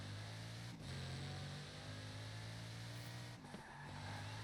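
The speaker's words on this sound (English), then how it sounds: "the Bugatti Divo" Bugatti Divo in Forza Horizon 4 holding a steady, loud engine drone at high speed, with brief dips around gear shifts or braking before the tone climbs again.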